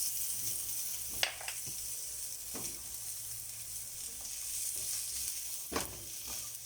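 Carrots frying in a pan for a dish of string beans with ground pork, a steady broad sizzle running throughout, broken by a few sharp clinks of a utensil against the pan.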